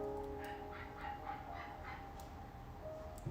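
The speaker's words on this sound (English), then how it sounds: "There's a little toy dog out there." Small toy dog barking outdoors: faint, distant yips scattered over a low background hum.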